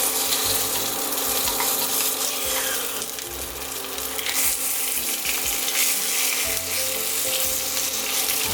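Chicken pieces stir-frying in a tablespoon of hot oil in a wok make a loud, continuous crackling sizzle, with occasional scraping and tossing as the meat is broken apart, close up and with no voices.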